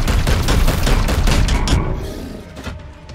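Dense, loud gunfire from the turn-based tactics game Warhammer 40k Chaos Gate Daemonhunters, a rapid barrage of booming shots that fades somewhat toward the end.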